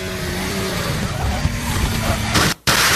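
Formula 1 car in qualifying at the United States Grand Prix, sweeping into the turn 19 left-hander just before a crash, a loud sustained engine roar with tyre noise, then an abrupt brief cutout before the roar resumes.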